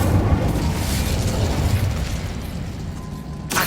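The Incendio fire spell cast in the video game Hogwarts Legacy, a loud, dense burst of roaring, crackling flame that sustains for a few seconds, ending in a sharp bright hit.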